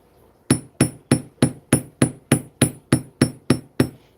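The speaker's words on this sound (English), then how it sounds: "Let's hit it with a hammer." A hammer strikes parawire twelve times in a quick, even rhythm, each blow a sharp ringing clank up close, texturing a wire-wrapped ring.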